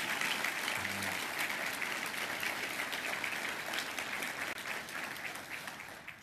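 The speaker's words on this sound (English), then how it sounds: "Let's give them a round of applause, shall we?" Audience applause fills a room at an Army awards breakfast forum: a dense, steady wash of many hands clapping, holding loud and even for about six seconds before easing slightly at the end.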